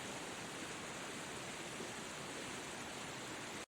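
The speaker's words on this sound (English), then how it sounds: "Seljalandsfoss is one of Iceland's most famous waterfalls" Steady, dense roar of Seljalandsfoss, a famous Icelandic waterfall that can be walked behind, its broadband rushing water constant and full at close range with no voices.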